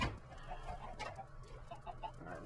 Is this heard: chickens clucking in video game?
yes